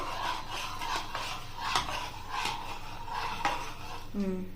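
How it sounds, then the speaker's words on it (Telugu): A spoon stirs jaggery into a summer fruit juice drink, scraping and clinking steadily against the vessel with a few louder knocks. The stirring is close and continuous, with no talk. "ఇది బెల్లం కరగడానికి కొంచెం టైం పడుతుంది మంచిగా మిక్స్ చేసుకుంటున్నా"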